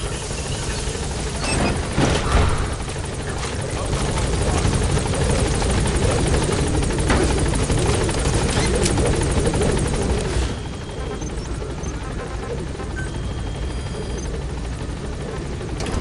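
A helicopter in a video game lifting off, its rotor chop loud and continuous before easing into a lighter, steadier drone as it gains height; brief voice lines sit under the engine noise.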